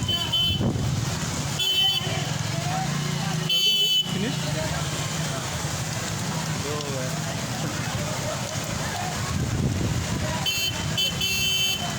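Vehicles push through deep floodwater on a city street in Nanded during a heavy storm, their engines submerged. A continuous watery rumble and wash carries occasional horn toots, with people talking over it.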